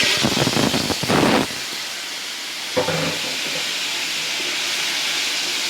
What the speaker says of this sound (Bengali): এই আলুগুলোকে একটু ভেজে নিব দিয়ে দিচ্ছি